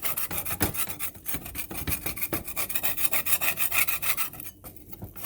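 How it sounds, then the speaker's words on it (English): Continuous rough scraping and rasping as residue is worked off the unpolished side of a marble slab used as a grill surface, steady back-and-forth strokes at close range, no voices. "Once it reaches room temperature, you just scrape at it"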